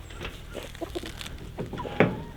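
Meat chicks on a homestead give a few soft, scattered clucks and peeps at close range, fairly quiet over a low background hum, with one slightly louder call near the end.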